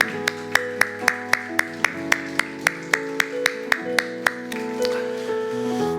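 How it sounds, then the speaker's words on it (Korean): A church congregation at a Thanksgiving Sunday service claps in a steady, evenly spaced rhythm over sustained organ-like chords, with the claps loud and close before fading into the music. "옆에 있는 분들에게 감사하다고 우리 박수로 축복하도록 하겠습니다"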